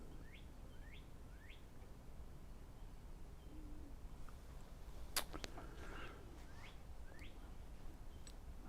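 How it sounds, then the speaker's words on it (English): A bird calls outdoors several times, short rising chirps repeating at a moderate distance over steady low background noise, with a brief clatter midway. "A bird outside."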